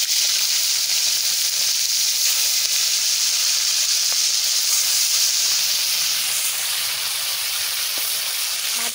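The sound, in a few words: hilsa fish heads frying in hot oil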